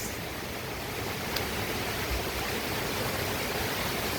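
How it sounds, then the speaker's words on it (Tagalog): Strong wind blowing steadily outdoors during a storm with rain expected, a continuous broad roaring rush at even loudness throughout, with no talking. "Ganun kalakas ang hangin dito ngayon sa amin."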